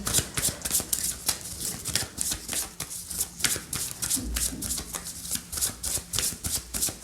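Petit Lenormand cards are shuffled by hand in a rapid, close-up series of papery riffles and slaps, repeating in a fast, uneven rhythm throughout.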